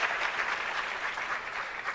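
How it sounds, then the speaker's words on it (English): Applause from the audience greets the Director General at the launch of 4IR centres of excellence, a brief, even burst of many hands clapping, fairly soft and continuous. "Let's give another big round of applause for Director General,"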